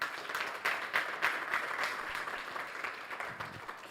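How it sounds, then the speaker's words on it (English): A community event audience gives a round of applause, a fairly quiet but steady patter of many hands clapping with distinct sharper claps near the start, no talking. "So please give them all a huge round of applause."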